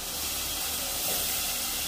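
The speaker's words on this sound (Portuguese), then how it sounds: "Eu já tô aqui refogando também um temperinho do arroz." Seasoning for rice sautés in a pan, giving off a dense, steady hiss that stays loud and even for a couple of seconds without any voices.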